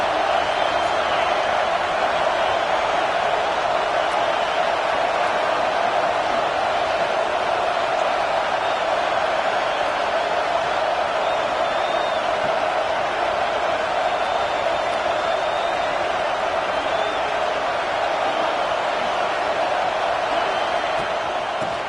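A stadium crowd in the Madden 26 football video game keeps up a steady, dense roar that runs unbroken for the full length at an even, fairly loud level.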